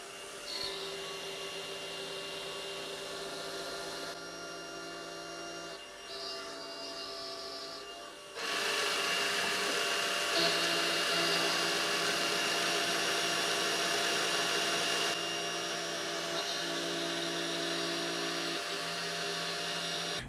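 A milling machine cuts a 1mm wide slot at 3000 RPM, a steady, fairly loud whine and hiss of cutter on metal that grows denser partway through and holds continuously.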